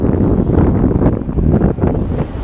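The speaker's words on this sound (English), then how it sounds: "It's actually quite windy as well when the boat's here, so I'm hoping it doesn't ruin my sound" Steady wind buffeting a microphone beside a boat on the River Nile, a dense low rumble with gusty swells that runs through the whole short stretch, no one speaking.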